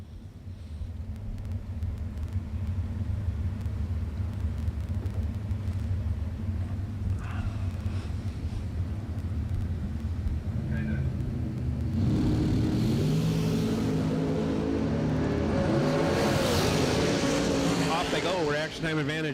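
Dragsters at a bracket drag race roar in a steady, loud engine rumble that swells and grows harsher midway through, a launch or run heard from the track's edge with an announcer's voice talking over it.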